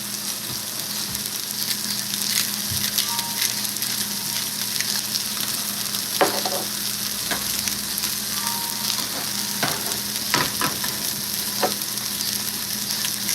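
Half a chicken breast sizzles steadily in a small frying pan, a continuous close crackle and spit of oil with occasional sharper pops, heard alone with no talking.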